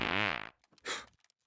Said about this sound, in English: I want my farts to hurt!